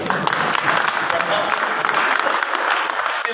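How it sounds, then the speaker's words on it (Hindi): A crowd claps steadily at a Hindi poetry gathering (kavi sammelan) in Morena, a dense continuous patter of hands with some voices mixed in. "नेताजी भी तालियां बजा रहे हैं, सभी लोग बजा दीजिए।"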